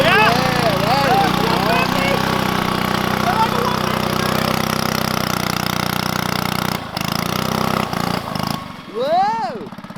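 A Lil Rascal mini bike fitted with a 79cc Predator engine held at full throttle, a loud, close, buzzing engine drone that stays steady and then dips and surges near the end.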